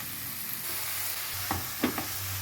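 Dill leaves for a North Karnataka-style palya, salted with no water added, steadily hiss in a pan while a spoon stirs them, giving a few brief scraping clicks near the end over the even sizzle; no one speaks.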